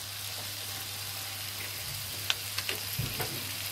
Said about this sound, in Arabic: احنا بقى بنشوح الخضار، هندبل الخضار كويس جدا